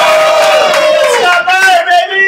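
A live comedy show audience cheers and whoops loudly for the next act, a dense burst of crowd voices with rising yells, close and continuous for a couple of seconds.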